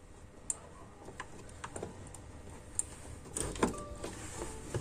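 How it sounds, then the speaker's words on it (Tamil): Faint, sharp clicks and ticks come from inside a Denon AVR-X1600H receiver with a no-power fault and a faulty SMPS board, spaced irregularly over a quiet background. "ஸோ இப்போ உங்களால் ரிலே சவுண்டு கேட்க முடியும்."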